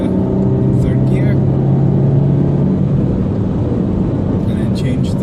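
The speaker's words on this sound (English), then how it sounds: "To go up to third gear." A car cruising on a dual carriageway at the national speed limit, heard from inside as a steady, close engine and road drone that holds level throughout while the driver moves up into third gear.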